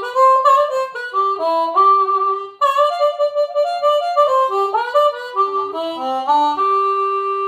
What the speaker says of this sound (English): So, I'm using C diatonic harmonica, major diatonic harmonica, special print in this case